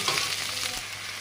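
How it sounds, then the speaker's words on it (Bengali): Brief burst of onions sizzling in hot oil, close and steady, with a faint stirring scrape. "ঝাল পেঁয়াজ ভেজে নিচ্ছি"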